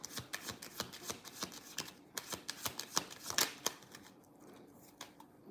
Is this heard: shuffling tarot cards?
yes